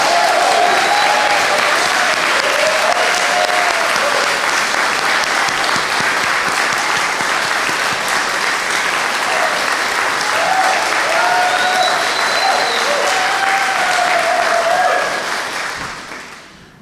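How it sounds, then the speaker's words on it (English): Audience clapping at an annual community meeting, dense sustained applause filling the room for about fifteen seconds, with faint voices in the crowd, then fading out quickly. "Let's give him a round of applause."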